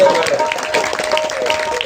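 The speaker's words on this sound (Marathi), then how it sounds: "मामीसाठी टाळ्या वाजवा बाबा" An audience at a comic devotional bharud performance claps for a woman, a moderate patter of hands with a faint tone and some voices underneath.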